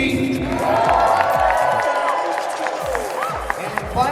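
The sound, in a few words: audience applause and cheering at a convention costume contest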